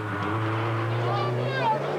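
A Peugeot rally car engine drones steadily during the 1982 Monte Carlo Rally, a continuous buzzing note with a voice speaking over it.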